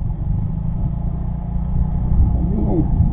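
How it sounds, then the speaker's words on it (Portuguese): A bus or truck approaches from behind on a sandy road, a steady low engine rumble that grows slightly louder and nearer over a few seconds, with no talking. "Tá vindo lá atrás de mim, cara. Não sei se é um ônibus ou um caminhão."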